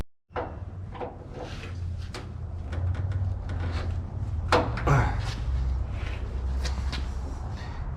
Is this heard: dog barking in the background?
no